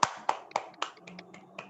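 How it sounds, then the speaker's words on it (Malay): A few children clap for themselves at an online class, a handful of sharp, separate claps spaced unevenly, followed by softer scattered taps fading out. "Kita tepuk tangan untuk diri sendiri"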